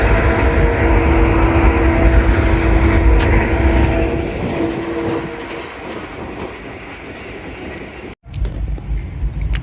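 A train rushes at high speed through Jahanian railway station, a loud roaring rumble with clattering wheels that gradually fades, followed by an abrupt break and renewed noise near the end.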